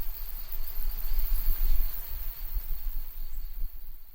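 Cicadas chirp on a morning in the Amazon rainforest, a steady high insect drone lying over a low rumble that swells and fades from moment to moment.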